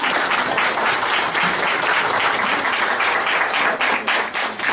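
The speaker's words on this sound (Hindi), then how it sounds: "देखो मेरे लिए ताली मत बजाओ" An audience at a talk on Ganotherapy applauds, loud and sustained clapping from many hands that fills the room for several seconds and thins slightly toward the end, with no speech over it.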